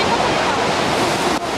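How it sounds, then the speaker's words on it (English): The American Falls at Niagara roar as a broad, steady rush of water, loud and continuous, heard from a tour boat as a voice talks over it. "on the left is the American Fall"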